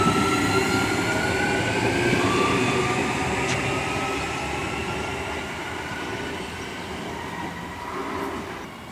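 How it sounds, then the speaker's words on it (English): A six-car passenger train rumbles steadily past at a railway junction, with continuous close wheel and carriage noise and faint high squeals. The sound eases slightly toward the end, with no voices. "In fact, it's a 6-car train."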